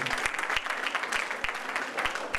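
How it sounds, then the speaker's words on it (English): Audience applause at a college event in Jaipur: a steady, moderately loud wash of clapping from many hands that holds evenly throughout with no voices over it. "So big round of applause"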